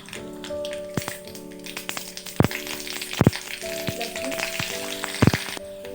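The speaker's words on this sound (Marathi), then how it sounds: "तुम्हाला हवे तितके मोहरी घालून घेऊया" Mustard seeds sizzle and pop in hot oil in a pan, a steady crackling fry broken by several sharp taps or pops, close and fairly loud, with no talking.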